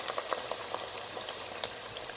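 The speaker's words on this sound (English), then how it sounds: "So we fry the sauce in the same oil." Shito, Ghanaian black hot chili sauce, fries in oil with a dense, steady sizzle and scattered small pops and crackles, close and continuous.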